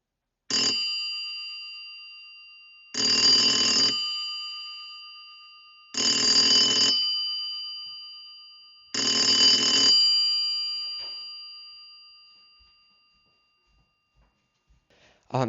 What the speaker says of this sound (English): the way that the intercom sounds on these isn't how normal North American ringtone sounds